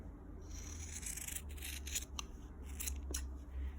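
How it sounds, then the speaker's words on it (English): Scissors snip through the seam allowance of a lined kimono jacket's fabric, a close run of quick, crisp cuts with soft rubbing between them. "now we're going to trim this seam allowance to about 1/4 of an inch here."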